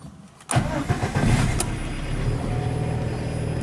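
A car's ignition is turned and the engine catches after a brief moment of quiet, giving a sharp start-up burst that settles into a steady, close idle on a rural village day.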